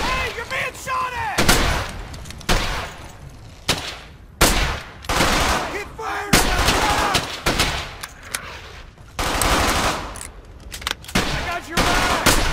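Gunfire in Brothers in Arms: Hell's Highway rattles in repeated loud bursts and single cracks, a dense battlefield barrage with shouting soldiers' voices mixed in throughout.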